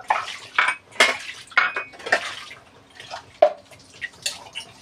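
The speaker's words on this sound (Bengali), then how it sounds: "এই যে বাসন ধোয়া দিচ্ছি এখন একটা একটা করে" Dishes being rinsed and washed one at a time by hand, with irregular clinks and clatters of plates and utensils and splashing, dripping water, close and fairly loud, no talking.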